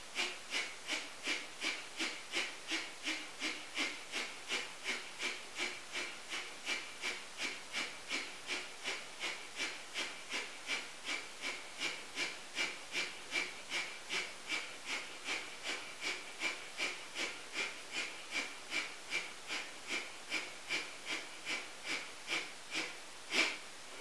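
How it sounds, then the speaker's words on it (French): Breath of fire during a Kundalini yoga posture, a long run of rapid, even, hissing nasal exhalations in steady rhythm, close and clear with no talk over it. "Avec la respiration du feu"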